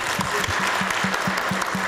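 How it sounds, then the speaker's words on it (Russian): An audience at a school graduates' meeting claps loudly and steadily in dense applause, with a faint rhythmic low tone underneath and no talk. "Давайте похлопаем."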